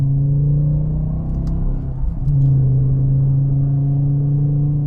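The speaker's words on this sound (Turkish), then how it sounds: "Yani 5 litre V10 makineden bahsediyoruz." Naturally aspirated 5-litre V10 in a BMW M6 droning steadily and loud from inside the car, with a short dip and lift in revs midway before settling back into a strong, even engine note.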